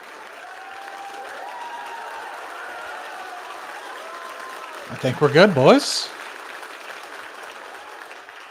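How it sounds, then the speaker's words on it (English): Applause and cheering from a launch control room crowd as an Electron rocket completes stage separation and second stage ignition, brief and close, with a voice speaking beforehand. "Tell from that applause, we have had a successful MECO stage separation and second stage engine start for Electron."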